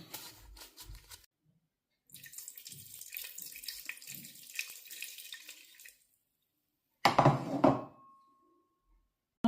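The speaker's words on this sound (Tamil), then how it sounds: "நாங்கள் இப்போ தண்ணி விட போகிறோம்" Water is poured into flour for a dough made with sugar and oil, in two separate pours. The first is a longer splashing stream and the second a shorter, stronger gush. Soft handling knocks come before them, with no talking.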